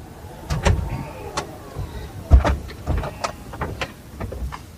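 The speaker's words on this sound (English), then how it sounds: "So I can close up all of my doors." A Tesla's doors closing under app control: a series of motor whirs and thuds from the car, with several separate close mechanical bursts spread over a few seconds.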